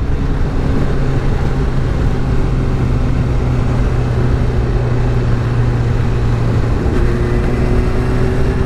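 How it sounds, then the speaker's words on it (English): Car driving along a bumpy road: a steady, loud engine drone with continuous road and tyre rumble, held at a constant level throughout with no talking. "So this road is really bumpy,"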